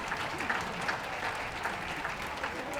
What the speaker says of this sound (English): Please give them a well-deserved round of applause as they leave the ring